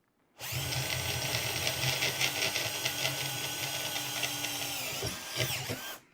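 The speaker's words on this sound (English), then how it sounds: "So it's always a good idea to drill from this side." A power drill bores into wood, a steady buzzing whir for about five seconds with a brief dip before a final burst, then stops.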